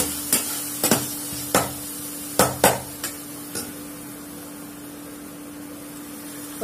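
Eggs frying with ponnaganti leaves in a pan, a soft steady sizzle broken by several sharp clinks and scrapes of a utensil against the pan, fairly close with no talking.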